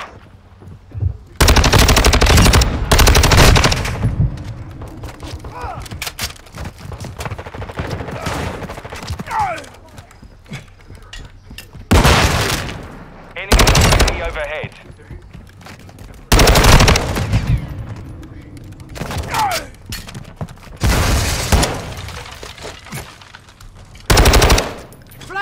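Gunfire from the video game Call of Duty: Modern Warfare 2: several loud, sustained bursts of automatic fire, each lasting a second or two, separated by quieter stretches with faint ambient game sounds.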